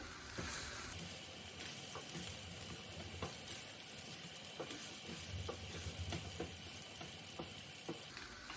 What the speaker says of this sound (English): By mixing it, all the rice will break up.